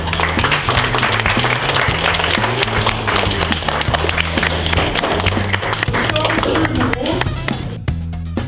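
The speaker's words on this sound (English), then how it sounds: "I wanted just a massive round of applause for all of you." An audience on the Isle of Wight breaks into a loud, dense round of applause, with a droning bass tone and crowd noise underneath that continue throughout.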